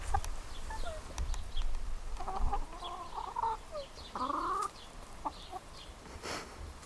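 Several backyard chickens cluck and call close by in short, irregular bursts over a quiet outdoor background.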